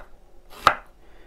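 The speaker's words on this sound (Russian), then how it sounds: "А вот острый перец мы можем нарезать вот такими полосочками." One sharp knife chop slices a hot chili pepper into strips on a cutting board, a single crisp stroke close by in an otherwise quiet kitchen.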